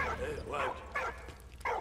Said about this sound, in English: Stop barking, come on!